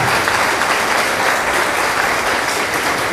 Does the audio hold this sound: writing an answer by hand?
no